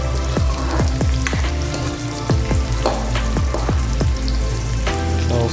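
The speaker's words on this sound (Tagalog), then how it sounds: "So sote lang natin ng maayos yung garlic saka onion, saka lagay natin yung ginger" Garlic, onion and ginger sautéing in a pan for Filipino paklay, a steady loud sizzle and crackle with repeated scraping stirs throughout, no voices.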